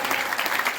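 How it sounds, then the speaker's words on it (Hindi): A short burst of crowd applause at a village gathering in Charla, Sujangarh, dense clapping from many hands at close range. "आप सब लोग तालियां बजा के इनका स्वागत करिए"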